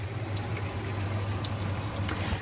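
Tap water runs steadily into the sink of a small caravan, a continuous close splashing flow over a low electrical hum, with no talking.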